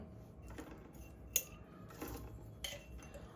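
A metal spoon tapping and clinking against a container while adding half a spoon of salt to biryani masala, a few faint, separate chinks spread over a quiet background.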